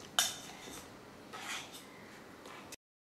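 A utensil mashes ripe avocado pulp in a small bowl, giving soft, faint scraping and a few light clinks against the bowl over roughly three seconds.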